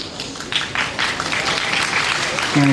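Applause from the audience at a middle school graduation ceremony in Cheonan, loud and dense steady clapping throughout, with a voice briefly speaking near the end.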